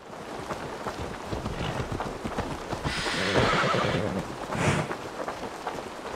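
Hooves clopping steadily in Assassin's Creed Valhalla, then a loud horse whinny rises midway and another shorter neigh follows, over a rumbling, rain-like background.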